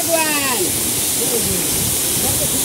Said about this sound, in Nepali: यो फुङफुङ झर्ना हो